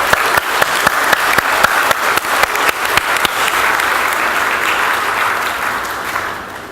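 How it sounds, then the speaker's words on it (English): A church congregation applauds a youth group member who helped paint and fix up rooms, with loud, steady clapping and distinct individual claps standing out before the sound thins and fades toward the end. "give him a round of applause"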